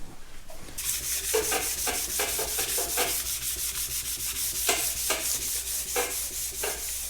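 Hand sanding of the rusty, pitted PTO shield from a Farmall tractor, with steady rhythmic back-and-forth scraping strokes repeating about twice per second, close and continuous, without speech.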